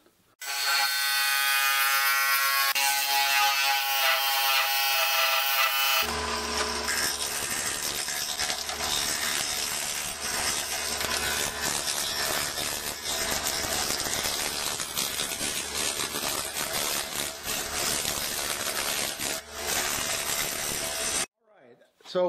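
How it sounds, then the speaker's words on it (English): A wood lathe turning a piece of stabilized wood, a loud, continuous high whine that starts alone, then deepens into a rougher steady cutting drone for about fifteen seconds before cutting off abruptly. "So let's get this back on the lathe and start turning it."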